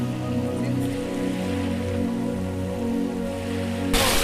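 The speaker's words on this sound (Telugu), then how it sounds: "ఇప్పుడైతే వాన చాలా గట్టిగా పడుతున్నది" Heavy rain pours steadily on Rameshwaram beach, a dense, constant wash of noise with a low hum beneath it and a sudden louder rush at the very end.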